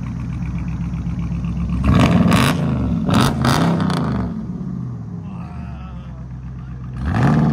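A RAM 6.4L V8 engine with the exhaust removed rumbles and roars with several sharp revs, then settles into a deep idle before revving again; a voice exclaims briefly.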